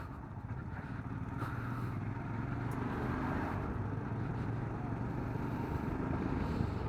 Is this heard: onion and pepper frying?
no